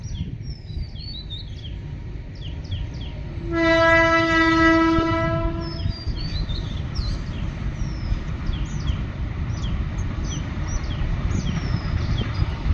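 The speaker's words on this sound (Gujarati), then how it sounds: "જોવે ને ટ્રેન જાય છે" A rumbling train rolls steadily past as a long, loud horn blast sounds near the start, while birds chirp throughout.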